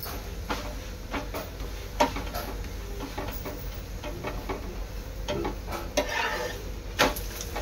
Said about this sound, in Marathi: अशा प्रकारे संपूर्ण पराठे मी दोन्ही साइडने भाजून घेणार आहे